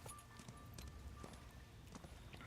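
Horse hooves clop in a loose rhythm over a constant soft background wash, fairly faint and steady throughout, in the video game Where Winds Meet.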